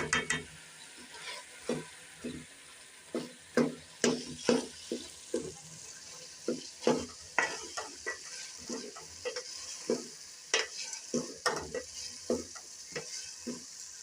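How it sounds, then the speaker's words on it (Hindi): Cluster beans (guar phali) are stirred and fried in masala, giving a soft sizzle broken by frequent scraping spatula strokes in an uneven rhythm, close and fairly quiet, with no voices. "अच्छी तरह से मिक्स करके भून लेंगे।"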